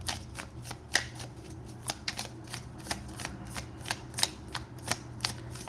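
Chakra oracle cards are shuffled by hand close up, a quick run of crisp riffling flicks and taps repeating in a steady rhythm over faint background hum.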